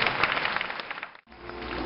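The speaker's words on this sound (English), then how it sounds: "Another round of applause for our 8M, Secretary Mon." Audience applause fills a summit hall on micro, small and medium enterprise development, a dense steady clapping that drops out briefly near the end before resuming just as strongly.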